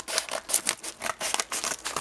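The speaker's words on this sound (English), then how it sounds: "I'm just gonna cut it open." Scissors snip through a small mailed package in a quick, steady series of crisp cuts, loud and close, with no talking.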